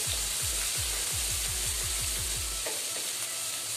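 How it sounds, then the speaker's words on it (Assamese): Ginger and garlic paste frying in hot mustard oil, a steady loud sizzle with rhythmic scraping strokes of a spatula for most of the clip, then the sizzle continuing alone; no voices. "এতিয়া মই এইখিনি এক মিনিটমানৰ কাৰণে ভাজি লওঁ যাতে ইয়াৰ কেঁচা গুণটো গুচি যায়।"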